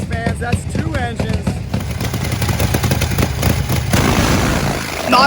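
A double-engine drag motorcycle runs loud and close at a race event, a dense, rapid popping roar with sharp crackling bursts throughout, and a voice faintly heard amid the noise.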